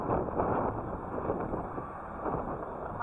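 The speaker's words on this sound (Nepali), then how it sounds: "हावा चलिरहेको छ।" Wind blows steadily outdoors at a backyard barbecue, a constant broadband rush of gusts buffeting the microphone with no speech, filling the whole stretch at an even level.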